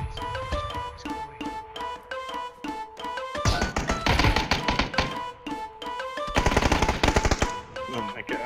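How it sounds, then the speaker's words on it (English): Rapid automatic gunfire from the video game PUBG: Battlegrounds. It comes in loud, dense bursts of repeated shots that keep on steadily, with heavier volleys in between. No speech can be heard over it. "I hate this gun so much"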